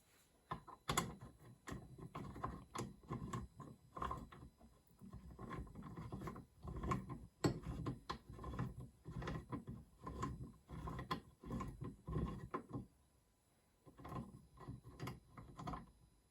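Mechanical clicking and ratcheting as a pint glass is tightened onto the rotary attachment of an xTool S1 20W laser engraver, a dense run of close, crisp ticks and clatters with a short pause near the end.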